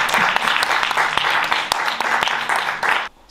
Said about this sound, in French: j'aimerais applaudir encore tous ceux qui ont travaillé sur ce projet